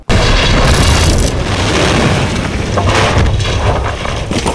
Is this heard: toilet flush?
no